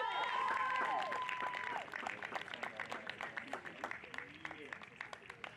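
A stadium crowd applauds the women's soccer senior class at a senior day ceremony, steady clapping and some cheering that thins into scattered claps, with a voice heard over it early on.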